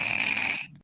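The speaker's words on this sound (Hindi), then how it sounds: "देखो कितना खर्राटा लेती है।" A sleeping woman snores, a single loud, raspy, drawn-out breath close by that cuts off abruptly near the end.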